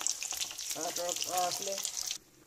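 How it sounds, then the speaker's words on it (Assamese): Fish fries in a pan with a bright, crackling sizzle, while a voice speaks briefly over it before the sizzle drops away abruptly near the end. "এইফালে মাছ ফ্ৰাই কৰি আছোঁ"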